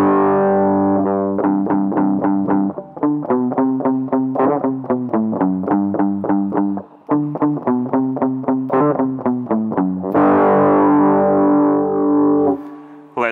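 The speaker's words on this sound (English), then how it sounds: "try distortion without amplifier" Distorted, fuzzy synth notes from a JavaScript Web Audio distortion effect, played without an amplifier, come in a quick rhythmic pattern, mostly staccato with short gaps, ending in a longer sustained gritty chord.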